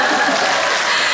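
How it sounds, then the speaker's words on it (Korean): A dense burst of crowd applause at a live public radio broadcast concert, loud and continuous, close and filling the space. "박수 부탁드릴게요."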